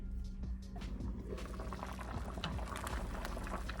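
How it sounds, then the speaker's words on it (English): Thick chicken pot pie soup at a rolling boil in a pot, a close, steady bubbling and gurgling with thick liquid popping throughout, no talking. "This has come up to a boil"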